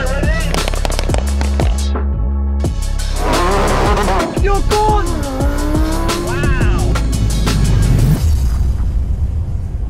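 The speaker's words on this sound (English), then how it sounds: "I've got my Lamborghini Aventador SV Roadster versus my old Lamborghini Aventador S." A Lamborghini Aventador SV Roadster and an Aventador S drag racing, loud V12 engines revving hard through shifts with tire squeal and a sharp burst, close and dominant, with voices briefly heard.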